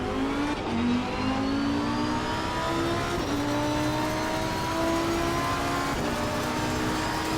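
A race car engine in Assetto Corsa Competizione revs steadily through rising gear pulls with brief drops at shifts, loud and continuous with no talking over it.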